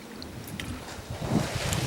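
Wind buffeting a microphone outdoors during a workout, a steady low rumbling roar that swells louder toward the end, with no speech.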